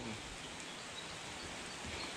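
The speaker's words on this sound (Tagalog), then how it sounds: "umuulan na. Malakas na, hindi na ambon." Heavy rain falls outdoors at a fishing spot in the Amazon, a dense, steady hiss of drops with no break.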